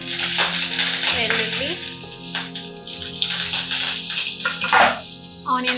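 Cumin, urad dal, chana dal and curry leaves fry in hot oil, giving a steady close sizzle with crackling pops and occasional stirring scrapes throughout.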